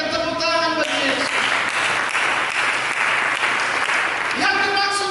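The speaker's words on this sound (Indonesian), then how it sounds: "Berikan tepuk tangan bagi Yesus." A church congregation claps together in a loud, sustained burst of applause, with musical tones ringing out as it begins and again as it fades.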